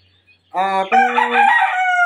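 A fighting-bloodline gamecock lets out a single loud, close crow, a harmonic call that breaks partway through and holds to the end, with no other sounds around it.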